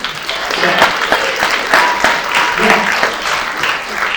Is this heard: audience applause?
yes